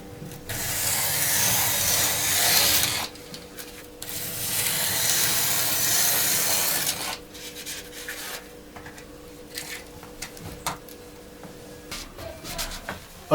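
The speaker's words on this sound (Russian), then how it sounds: "И канцелярским ножом с острым лезвием нарезаю заготовки." A sharp-bladed utility knife cutting blanks for a handmade faux fireplace, with long rasping strokes in two sustained passes, then quieter scraping and handling noises close by.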